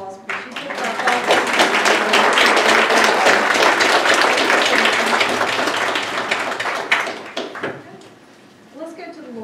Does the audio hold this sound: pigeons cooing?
no